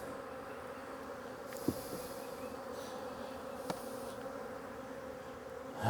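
Dense, continuous buzzing of many honey bees fills the clip, steady and close, with a couple of faint thumps and scrapes in the background.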